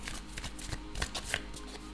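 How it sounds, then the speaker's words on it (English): Tarot cards flutter and slap together as a deck is shuffled, several brisk papery bursts heard up close at low volume, alone without speech. "Let's give it a good shuffle."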